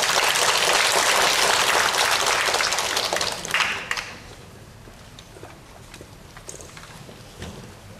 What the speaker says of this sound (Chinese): 来，我们请鼓掌